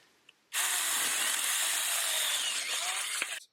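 A SAKER mini chainsaw cuts through wood during wall-framing renovation work, starting abruptly and running as a loud, steady buzzing whine for about three seconds before cutting off, with no talk.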